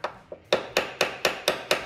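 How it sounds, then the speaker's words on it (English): Sharp metal-on-metal taps from a hammer striking a punch held against the bare steel body of a 2018 Jeep Wrangler JK 4-door, two light taps then six firmer evenly spaced strikes, close and clear. "I'm gonna give it some taps with a punch"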